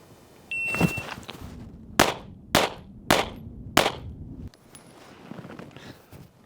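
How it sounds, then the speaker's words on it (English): Handgun shots at four targets in a concealed-carry baseline drill: four sharp, loud cracks at a steady pace of about one every half second to second, after a quieter click and clatter at the start. "1 round into each of those 4 targets in the order 1, 2, 3, 4."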